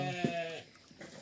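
A sheep bleats once on a hillside farm, a wavering, nasal cry close by, followed by faint rustling background sounds.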